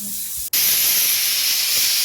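A pressure cooker whistle blasts loudly and steadily as steam rushes out while jackfruit boils inside, starting abruptly after a brief quiet moment and hissing on without a break.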